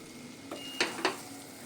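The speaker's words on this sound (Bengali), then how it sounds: "গ্যাস বন্ধ করে দেওয়ার পরেও কিন্তু আমি একটু নেড়ে চেড়ে নিচ্ছি" Chicken Maggi noodles get stirred in a pan after the gas is switched off, with two or three soft scraping strokes against the pan over a faint background hiss, close and quiet, without talk.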